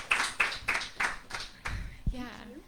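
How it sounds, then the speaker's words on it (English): A small audience gives a performer at a trio concert a short round of clapping, with a handful of evenly spaced, distinct claps close by before a voice begins talking. "Can y'all give her another round of applause?"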